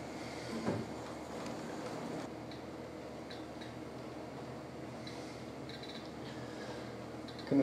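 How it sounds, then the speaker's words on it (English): A Bachmann Class 37 in intercity livery on a 00 gauge model railway layout runs along the freight line, giving a steady, low rolling rumble with faint wheel clicks throughout. "Coming into view on the freight line at the moment is a Class 37 in intercity livery."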